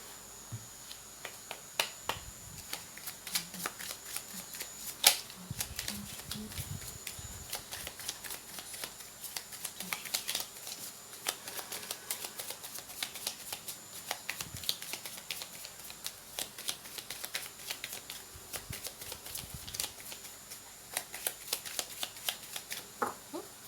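Tarot cards being shuffled by hand, a steady run of crisp riffling and soft flicking clicks that carries on throughout, close and fairly quiet, with no talk.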